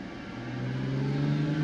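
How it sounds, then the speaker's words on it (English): A BMW N52 engine held at about 3000 rpm gives a steady, even drone with a strong low hum that builds slightly in loudness, close and alone, with no talk. "I put the revs up to about 3000 and I maintained it for about 2 minutes, like so"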